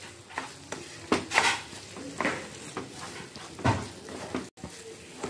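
A spoon scrapes and stirs carrot halwa (gajar ka halwa) with two tablespoons of ghee in a pan, giving irregular scraping strokes over a soft sizzle, close and moderately loud, with a brief dropout near the end.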